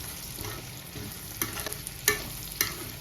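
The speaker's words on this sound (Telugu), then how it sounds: "పచ్చిమిర్చి వచ్చేస్తాను తర్వాత కరివేపాకు ఇవన్నీ ఫ్రై చేసుకోవాలండి" Green chillies and curry leaves frying in oil in a pan with prawns give a steady, loud sizzle, with a few sharp scrapes of a spoon stirring, and no voices.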